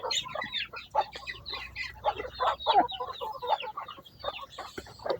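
A hungry native hen clucks repeatedly and insistently, with short busy bursts of clucks close by, mixed with other chicken calls in the background.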